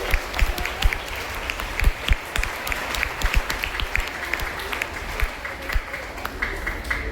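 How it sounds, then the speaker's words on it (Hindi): Steady applause from a school audience at a Guru Purnima and honors ceremony in a school courtyard, dense overlapping claps with crisp individual hits sustained at an even, moderate level for the whole stretch. "एक बार पुनः जोरदार तालियां बजनी चाहिए।"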